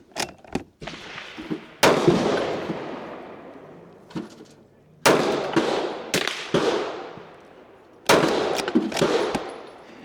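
A Ruger bolt-action rifle fires at an outdoor shooting range: sharp, loud shots in irregular bursts, each cracking hard and then trailing off in a decaying echo, with gaps between groups.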